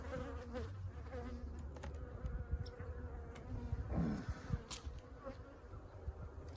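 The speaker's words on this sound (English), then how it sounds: "I've got plenty of bees in this box" Dense, continuous buzzing hum of many honey bees in a hive box, a steady drone of wings with occasional louder passes of individual bees close by, heard alone without speech.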